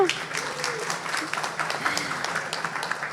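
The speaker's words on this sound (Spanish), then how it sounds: "Por favor, un aplauso para Wilfrido." Audience applause at a science talk event in Manta greeting the speaker Wilfrido Argüello, a steady patter of clapping from a small crowd with some faint background voices murmuring.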